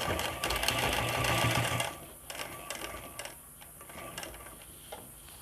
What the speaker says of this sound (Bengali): দুটো ইলাস্টিকের মুখকে একসঙ্গে করে নিয়ে প্রথমে আপনাদেরকে সেলাই করে নিতে হবে